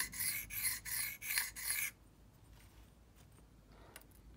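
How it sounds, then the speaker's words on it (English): A Cold Steel Rajah 2 knife edge is drawn back and forth over a sharpener in about five close, rhythmic rasping strokes. Quiet follows, broken only by faint handling sounds. "I'm just gonna go back and forth until I feel it's like smoothing out."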